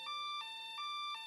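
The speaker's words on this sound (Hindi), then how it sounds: "इसमें सायरन भी है और लाइट भी जलती है।" A toy truck's electronic siren wails faintly in a repeating two-tone pattern, switching pitch about every third of a second with no other sound around it.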